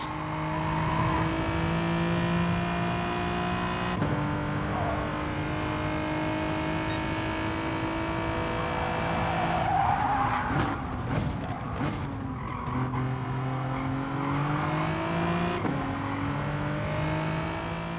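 Gr.4 race cars in Gran Turismo at Alsace Village roar steadily as they overtake slower cars, the engine tones shifting through gear changes with a burst of rapid, rattling sound near the middle.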